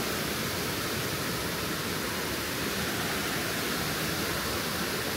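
Waterfalls in the Fervença area pour with a steady, loud rushing roar that fills the whole scene without pause, heard close by with no voices over it.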